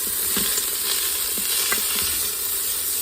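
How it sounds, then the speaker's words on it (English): Leeks and vegetables cook in an Instant Pot for potato, leek and ham soup, a loud, constant sizzle and hiss with faint stirring scrapes beneath it, close up and without talk. "I'm just gonna stir those around."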